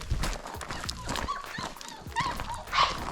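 A thin mother dog and her four young puppies whimper and whine outdoors in short, high cries, with some rustling and movement and a few soft human sounds nearby.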